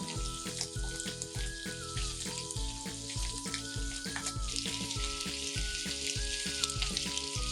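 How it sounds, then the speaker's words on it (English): Bacon and mushrooms sizzle and fry steadily in a single pan for a Japanese soy sauce butter pasta, a loud continuous crackle with occasional stirring clatter and no voices. "Lightly browning the bacon and mushrooms adds a layer of savory depth to the finished dish."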